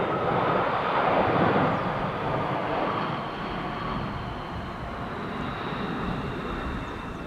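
An airliner lands at Schiphol Airport with a moderate, distant jet roar that peaks early and then settles into a steady, fading rumble.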